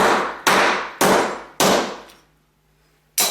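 Loud, close hammer blows drive a disc cutter punch into metal: three sharp metallic whacks with ringing decay about half a second apart, a pause, then one more strike.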